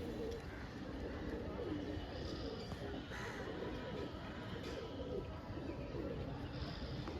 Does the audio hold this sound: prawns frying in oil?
no